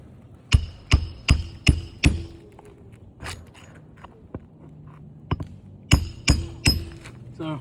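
Hammer blows drive the last fastener into roof shingles: a quick run of five sharp strikes, a few scattered knocks, then another burst of three, close and loud.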